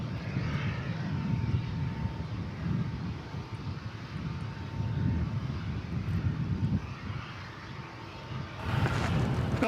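An airliner arriving at DFW Airport at night makes a steady, moderately distant engine roar with wind noise, and a rushing burst comes near the end.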